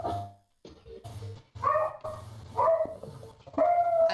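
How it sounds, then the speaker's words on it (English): A dog barks repeatedly and loudly nearby, several sharp barks and yips in an uneven rhythm with brief gaps, heard alone with no talking over it. "I love the noisy dog."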